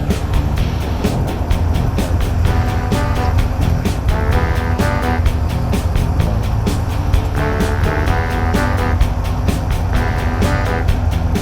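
A 2017 Harley Davidson V-Rod Muscle motorcycle rides through South San Francisco, its engine droning loud and steady, rising in pitch during brief revving stretches, with rushing wind noise throughout.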